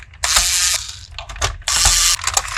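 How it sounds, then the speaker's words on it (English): Ratcheting screwdriver working screws on a Nerf blaster, loud, close clicking ratchet bursts in two long runs with shorter clicks and handling knocks between them, no voices. "I'm just getting started with a screwdriver."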